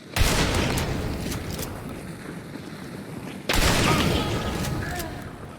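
A Dragon Breath shotgun fires in Hunt Showdown, a sharp broadband blast near the start and a second heavy boom midway, each leaving a long rumbling tail of gunfire and explosion noise.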